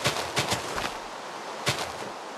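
A Minecraft TNT cannon firing, a cluster of sharp blasts at the start followed by another burst a second later, loud and close over a continuous game hiss.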